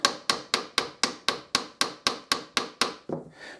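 A brass mouthpiece is tapped with a hammer to remove dents as it is turned: about a dozen sharp, evenly spaced metallic taps, close and clear, with the last one or two softer.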